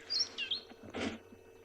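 A drongo on a sunrise safari gives a few short, quiet, distant chirps and whistled calls that mimic other bird species, with no talking.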